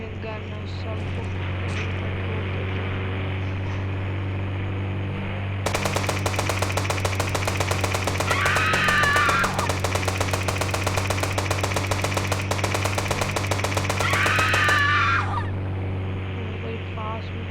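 Rapid automatic gunfire in a 3D Indian bike and car driving video game, heard as a steady, loud burst of about nine seconds over a constant engine drone, with brief whooshing sweeps during the firing.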